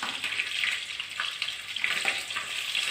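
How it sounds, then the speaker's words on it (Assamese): Onions and bay leaf frying in hot oil in a pan, a continuous close, bright sizzle with crackling bursts and occasional stirring, no voices. "এতিয়া মই ইয়াতে তেজপাত দিলোঁ, আৰু ইয়াতে মই কাটি ৰখা পিঁয়াজখিনি দি দিম।"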